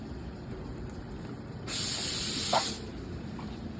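A brief, loud burst of spray hisses for about a second as bedliner is sprayed onto a truck tailgate, standing out from a quieter background hum.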